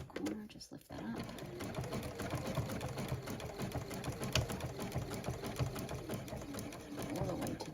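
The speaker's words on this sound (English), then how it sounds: "I'm going to do a zigzag just to make sure that I'm catching the back as well." A sewing machine runs a steady zigzag stitch through satin binding on a stretch fleece blanket topper, whirring continuously and close up from start to finish.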